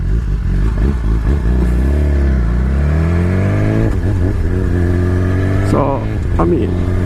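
A BMW S1000RR sport motorcycle rides along a road, its engine rising and falling in pitch through steady acceleration and gear changes, loud and continuous with wind noise, while a rider talks over it.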